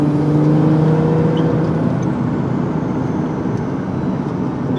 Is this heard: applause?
no